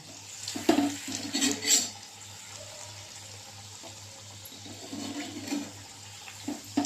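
Anarsa sweets sizzle and bubble in hot ghee, a steady close frying hiss with a low hum underneath and a few brief clinks near the start.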